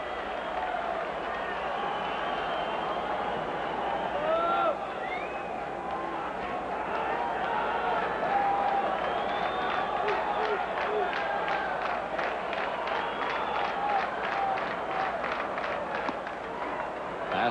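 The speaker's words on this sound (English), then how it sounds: "This sends a surge of electricity through the crowd here at Fenway Park." A Fenway Park crowd at a 1995 Baltimore–Boston baseball game roars in a broad, steady swell that stays loud throughout, with scattered cheers and whistles in the wash of noise.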